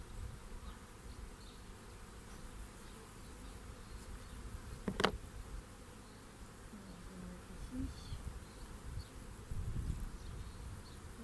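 Honeybees swarm around an open hive during an autumn colony check, making a continuous close buzzing hum with one brief sharp click midway.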